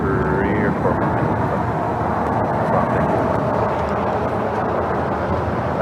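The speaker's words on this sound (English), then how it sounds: "KLM flight 601, the flight 777 coming in from Amsterdam, and next heavy arrival on the north side." A KLM Boeing 777 heavy arriving from Amsterdam rumbles overhead with a broad, loud jet roar while a voice talks over it at a plane-spotting location.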